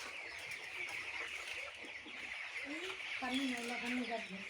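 Broiler chickens raised at a home farm cluck in soft, scattered bursts over a steady background hiss, faint and somewhat distant, with a few louder clucks near the end.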